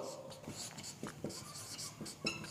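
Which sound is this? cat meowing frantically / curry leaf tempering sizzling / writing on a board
writing on a board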